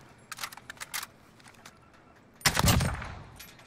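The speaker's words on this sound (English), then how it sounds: "You're getting shot at." Gunfire in Call of Duty: Warzone Rebirth: two bursts of rapid shots, a quicker spatter early on, then a louder, denser volley near the end, with quiet gaps between.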